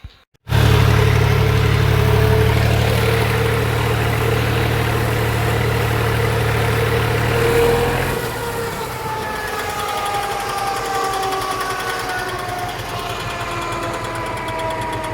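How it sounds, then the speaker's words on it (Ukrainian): Continuous loud mechanical drone with a steady low hum from humming bearings on a Lisicki 1.35 m mower driven by a tractor's power take-off, shifting to a slightly different whine partway through, no voices. "підшипники чомусь гудять"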